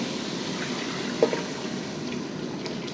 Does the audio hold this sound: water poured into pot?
yes